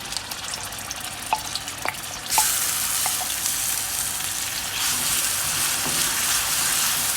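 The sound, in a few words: ingredients frying in coconut oil in a pan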